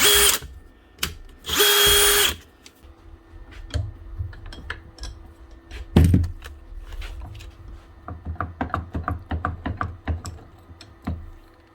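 A DeWalt cordless drill runs at low speed while clamped in a vise, with short loud whirring bursts early on, then clattering taps and rattles in a close workshop, with no talk.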